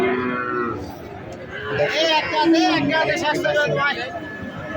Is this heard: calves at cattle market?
yes